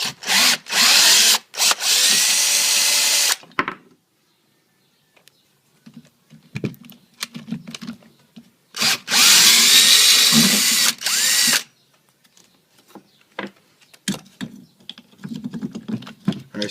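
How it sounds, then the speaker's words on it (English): Several loud bursts of a power drill whirring as it removes upper strut mount nuts on a 2005 Dodge Dakota strut, each lasting a second or two, separated by quiet gaps with small clicks and clanks of metal. "I think the drill could probably handle the rest of these."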